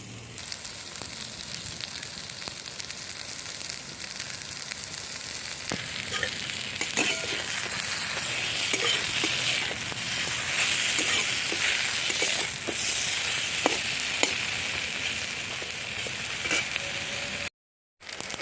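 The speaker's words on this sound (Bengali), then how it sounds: "বেগুনগুলো লাল করে ভাজা হয়ে গেছে এবার আমি তুলে নেবো" Fresh brinjal pieces fry in oil in a pan, a moderate steady sizzle that grows fuller partway through, with scattered pops and stirring clicks and a brief silent dropout near the end, with no talking.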